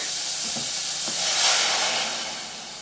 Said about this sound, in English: add in about half a pint of whole milk